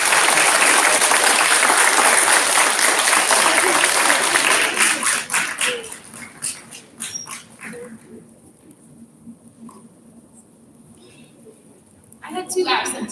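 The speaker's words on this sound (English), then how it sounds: "Now let's give them a round of applause" A crowd claps loudly for several seconds at a DARE graduation, then the applause fades into scattered claps and quiet, with a dog yipping and voices near the end.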